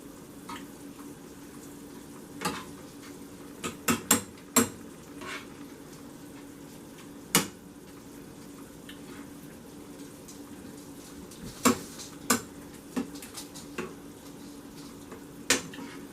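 Stuffed bell pepper filling is stirred and mixed in a pot. A spoon sends out sparse, sharp clinks against the pot over a low, steady background, with irregular gaps between strikes.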